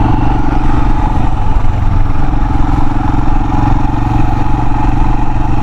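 A Royal Enfield Himalayan motorcycle rides over freshly laid gravel, its engine droning loud and constant with a gritty, clattering texture underneath and no pauses.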